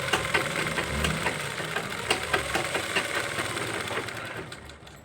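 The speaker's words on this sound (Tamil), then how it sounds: "இப்படி மடித்து நான் இதில் வந்து ஓவர்லாக் தான் போட போகிறேன்." An overlock sewing machine runs steadily while stitching the lining of a blouse, giving a continuous close whirring hum with a rapid mechanical stitching patter throughout.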